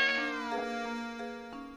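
A cat meows in the Professor Layton video game, a few drawn-out tonal meows in a row, close and clear with no talking over them.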